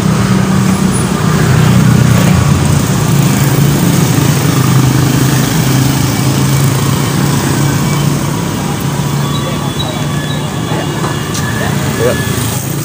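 A motorcycle engine runs steadily and loudly throughout, a constant rumble mixed with road and traffic noise.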